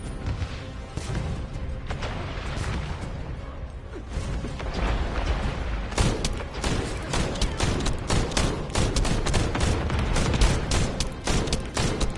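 Gunfire in a video game aimed at a purple target, dense rapid shots and clattering mechanical bursts running continuously, growing busier and louder in the second half.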